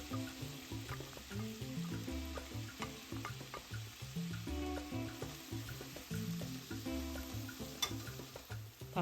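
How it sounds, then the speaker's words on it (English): Onions and turkey bacon fry in olive oil in a pan, a soft continuous sizzle broken by quiet rhythmic scraping and stirring close by. "So we're going to just fry this for about 2 minutes until the onions are translucent."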